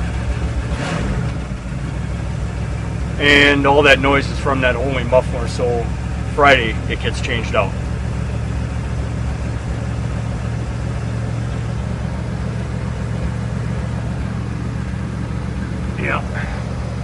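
A car with a loud aftermarket muffler idles roughly with a steady low rumble close by, while someone talks over it briefly.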